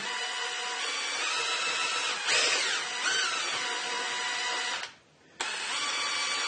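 The apron feed mechanism of a Harrison M300 lathe runs with a continuous mechanical whir and gear drone as it churns oil in the box, then cuts out briefly near the end before resuming.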